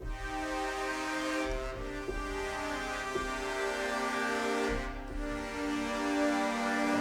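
A sustained synthesizer strings chord swells and shifts through a few held notes, smooth and steady, with no voices.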